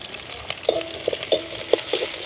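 Shallots and green chilies sauté in a pan with fennel seeds, giving a steady soft sizzle broken by a few brief scraping stirs.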